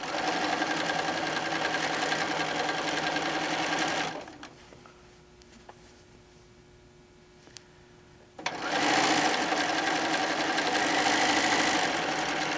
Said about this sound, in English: I'm just going to sew these guys down.